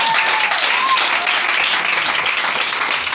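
A church congregation applauding the Lord at a Friday service in Koumassi, dense steady clapping from many hands filling the room at full volume throughout, with faint voices mixed in.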